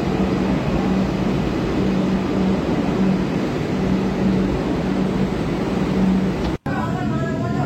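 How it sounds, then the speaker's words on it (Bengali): Kolkata metro train on the Orange Line leaving the station and running, a loud steady low rumble and broad rushing noise from inside, broken by a brief sharp dropout near the end. "আমাদের ট্রেন ছেড়ে দিল"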